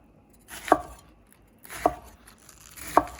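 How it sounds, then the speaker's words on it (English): A knife slices diagonally through vegetable stalks like Swiss chard on a cutting board for wonton soup, giving three separate crisp chops about a second apart with quiet pauses between them. "we'll just slice these diagonally in about 1/2-inch slices"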